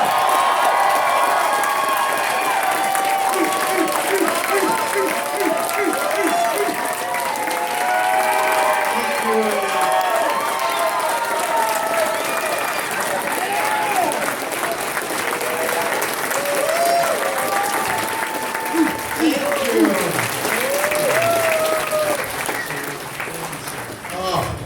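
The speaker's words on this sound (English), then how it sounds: "So I want everyone to get up on their feet and give Frank Welker a round" A packed convention crowd at TFCon 2016 in Toronto gives voice actor Frank Welker a long, loud standing ovation, with steady clapping, cheers and whoops that continue for over twenty seconds before starting to fade.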